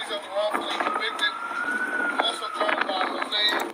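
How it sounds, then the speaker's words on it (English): Wind buffets an outdoor microphone during a livestream, a steady rough rumble with brief gusts throughout, while faint sounds sit under it. "The wind is blowing in this video, but we're gonna bear with them."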